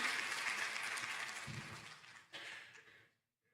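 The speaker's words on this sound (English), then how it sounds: "Another round of applause for our amazing panelists and moderator on this amazing panel session." A symposium audience applauds panelists and a moderator, a steady wash of clapping that fades out over about three seconds before falling silent.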